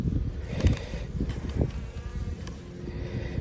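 Honeybees from a very small hive colony buzz close by, a dense droning hum with individual insects flitting past the listener, loudness swelling and dipping irregularly throughout.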